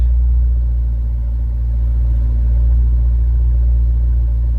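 An old car engine with its original carburetor idles steadily with a deep, even rumble, no voices over it.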